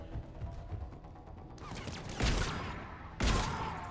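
Gunfire in Mass Effect 3, starting as faint distant shooting and then two sharp, loud bursts of shots, close by with no talk.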